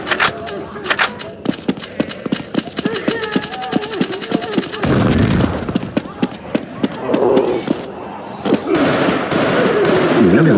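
Rapid automatic gunfire bursts from the zombie shooter Left 4 Dead 2, loud and rattling in fast repeated volleys, broken by a heavy blast and then further shots, with players talking excitedly over the action.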